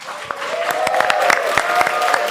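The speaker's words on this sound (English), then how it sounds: "So big round of applause to you guys." A crowd at a live Dota 2 show in Singapore applauds with dense, sustained clapping, and a voice is faintly audible beneath it.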